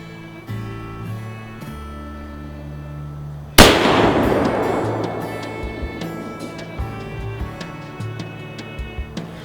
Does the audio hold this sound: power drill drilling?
no